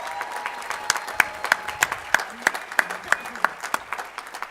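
Graduates at the Endicott College 2016 commencement applauding and cheering, a dense steady crowd of clapping with sharp periodic claps standing out, continuous across the clip.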